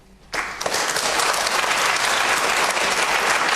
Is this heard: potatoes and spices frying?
no